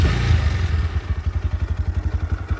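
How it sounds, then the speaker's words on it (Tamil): Exhaust note of a 2023 Bajaj Pulsar NS160 motorcycle idling up close, a loud, even, rapid thudding pulse from the pipe that settles into a steady beat after an opening rev. "இப்போ இந்த பைக்கோட எக்ஸாஸ்ட் நோட் வந்து கேட்டலாம்."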